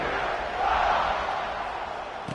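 A football stadium crowd roars at a CFL game just before a kickoff, a broad steady wall of distant cheering that swells slightly and then holds.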